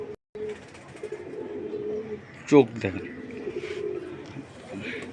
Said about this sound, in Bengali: আমরা এক পিস করে কবুতর ধরে দেখাই